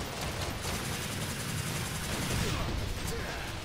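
Rapid pistol gunfire from Lady's weapons in Devil May Cry 4, a dense continuous volley of shots sustained throughout over game noise, with a voice talking over parts of it.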